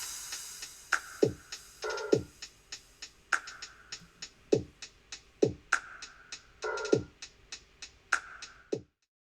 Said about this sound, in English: So altogether, the drum submix basically sounds like this.